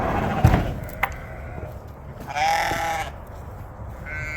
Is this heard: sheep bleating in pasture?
yes